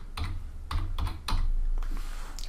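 Clicky computer keyboard typing up close, a few quick bursts of keystrokes separated by short pauses as a single word is entered.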